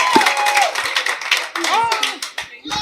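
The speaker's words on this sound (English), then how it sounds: "Clap for her, please." Clapping from the audience at a cultural and awards night hosted by a skills academy, mixed with voices and cheering for an honoree. It is loud and steady for nearly three seconds.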